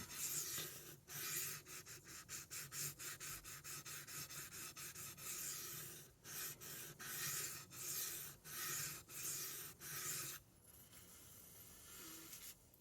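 A Spyderco knife blade is drawn across a sharpening stone in quick, rhythmic rasping strokes, many in a row with brief pauses, close and quiet, with no voices.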